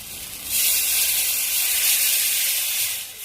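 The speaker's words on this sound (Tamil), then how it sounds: "நமக்கு நல்லாவே குழம்பு கொதிச்சு வந்துருச்சு." A pot of fish curry with tamarind, tomato and curry masala at a rolling boil, giving a steady, loud bubbling hiss that swells in after a quiet start and holds for several seconds.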